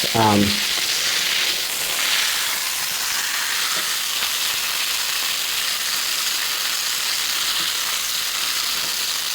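Bacon frying in a pan after being flipped, a steady loud sizzle and crackle running throughout with a brief clatter at the start.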